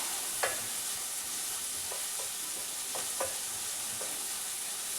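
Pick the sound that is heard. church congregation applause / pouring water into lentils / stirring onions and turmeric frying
stirring onions and turmeric frying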